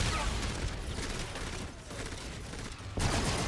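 Rapid gunfire fills a Call of Duty: Infinite Warfare space battle, a dense continuous fusillade with booms that runs the whole stretch, briefly dipping near the end before surging loud again.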